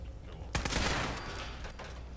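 Player's gun firing in Fallout 4, a loud sharp burst of shots near the start followed by rapid rattling fire that tapers off, with game ambience underneath.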